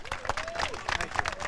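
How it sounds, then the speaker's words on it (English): Audience applause and cheering for Detroit Chief of Police James Craig at a groundbreaking press conference for a new 8th Precinct, a dense crowd clapping with a voice speaking over it. "again, a round of applause, Chief Police James Craig"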